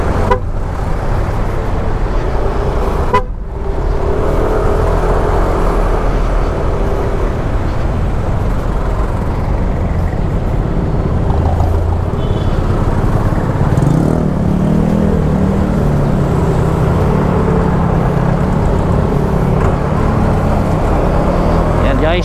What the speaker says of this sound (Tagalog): Grabe yung build up ng sasakyan